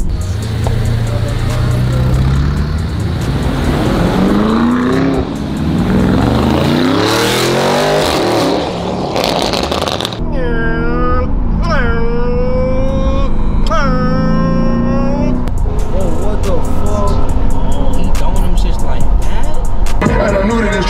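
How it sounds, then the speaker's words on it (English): Lamborghini sports cars rev and accelerate loudly and close by, their engine pitch rising and falling in repeated sweeping surges, while people talk over the engine noise. "hitting his Lamborghini while I'm in my Lamborghini"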